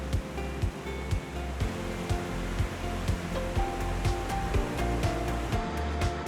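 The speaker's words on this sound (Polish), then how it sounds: "spektakularne wodospady" Waterfalls pour straight onto a black sand beach on Madeira's north coast, a steady, dense roar of falling water mixed with surf that stays loud and constant throughout, with faint recurring thuds.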